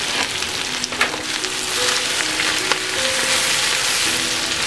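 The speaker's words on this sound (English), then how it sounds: "I'm going to stir that garlic around." Garlic sizzles loudly in a pan while being stirred before spinach goes in for a spinach lasagna: a constant, close frying hiss broken by several sharp scraping strokes, with no speech.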